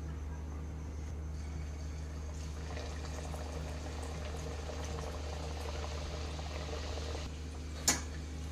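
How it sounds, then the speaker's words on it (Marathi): Wheat-flour kachori deep-fry in hot oil with a faint, even bubbling hiss that runs unbroken, broken only by one sharp click near the end; no one talks. "तेल पण गरम झालेलं आहे। आता मी एक एक तळून घेते।"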